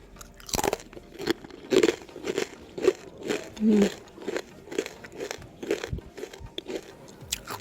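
Crispy basreng, a fried snack here made without fish, being bitten and chewed up close: repeated sharp crunches and crackles in an irregular rhythm, with a voice murmuring between bites.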